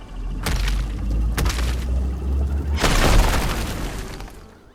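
Two sharp cracks followed by a heavy, rumbling boom that swells and slowly fades, the Rocksplosion spell explosion in RuneScape: Dragonwilds, with no voices.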